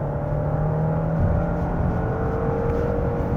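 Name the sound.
Genesis G90 car accelerating at full throttle in comfort mode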